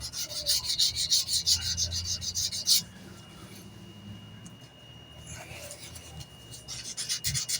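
Close rhythmic strokes of 400 grit sandpaper rub a mahogany knife handle, a quick brushing rasp that repeats, pauses, then resumes more softly.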